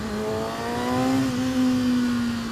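A 2013 Kawasaki Ninja 636 motorcycle pulls hard under acceleration, its engine note a strong, smooth rising whine that climbs steadily in pitch, loud and close, with no talk over it.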